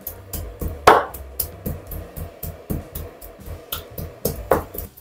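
Pork is minced with a kitchen knife on a board, the cleaver striking in a steady, fairly quick rhythm of close, dull thuds, with no talking.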